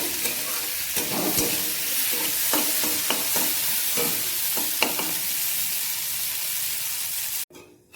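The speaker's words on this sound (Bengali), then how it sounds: "শিমের বিচিটা একটু লাল লাল করে ভেজে নেব।" Broad bean seeds fry in a pan with a steady sizzle while a spatula scrapes and stirs in a series of sharp clacks, ending abruptly in near silence.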